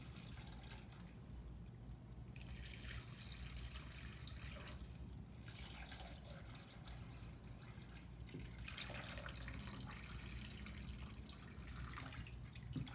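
Water pours steadily into a metal pot, a continuous splashing trickle that swells and eases in a few surges, with no talking.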